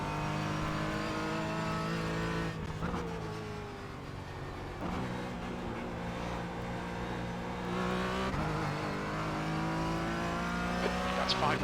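A GT3-era race car engine in the iRacing sim at the Nürburgring, droning loud and steady with shifting revs and brief gear changes, while a voice talks over it now and then.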